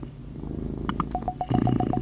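Soft, steady purring from a sleeping cat close by in the video game Spirit Talk, with a faint rhythmic hum and light game-like tones chiming over it.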